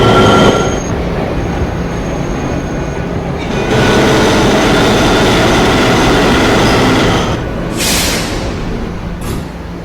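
An N subway train running between stations, a loud continuous rumble of wheels on rail with sharp bursts of high wheel squeal near the end, close and alone with no talk.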